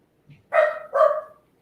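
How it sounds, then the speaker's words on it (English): A dog barks twice in quick succession indoors, two short, fairly clear woofs with a faint yip just before, otherwise quiet around them. "every time I record, this dog start barking."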